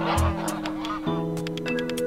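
A cartoonish duck quacks and honks repeatedly in the video game A Space For The Unbound, a few nasal calls layered over a steady, tonal game music bed.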